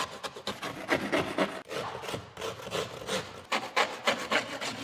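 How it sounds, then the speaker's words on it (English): A knife trims overhanging plasterboard with repeated close scraping, rasping strokes in an uneven rhythm, and no talking. "I'm also gonna trim all this overhanging plasterboard there."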